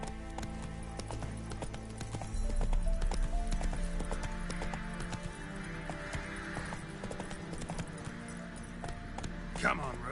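Roach, the horse in The Witcher 3, gallops in quick, regular clip-clop hoofbeats under game music, with a brief neigh near the end and someone talking over the running.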